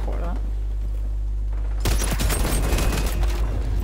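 Dense bursts of rapid gunfire fill the second half of a firefight in the video game XDefiant, loud and close after a quieter stretch of low game ambience.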